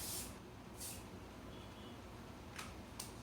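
A TIGI hair product is sprayed from a can in short hissing bursts, two near the start and two more later, quiet against a faint background.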